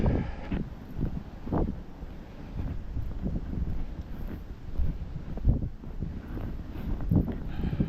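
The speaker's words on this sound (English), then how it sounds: "But I do not like walking in wind." Steady gusty wind buffets the microphone on a windy night walk in Maine, a continuous roaring rumble that swells and eases with each gust, close and fairly loud, with no talking.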